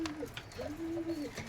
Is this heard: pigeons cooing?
yes